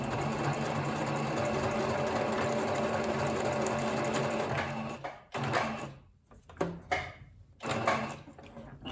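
A sewing machine stitches a craft project in a steady, loud, rapid rattle for about five seconds, then halts; needle lowering, presser foot lifting and fabric turning follow as short, separate clicks and rustles.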